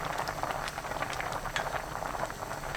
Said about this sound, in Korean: 새알이 떠오르면 그때부터 1분 30초 더 끓여주세요.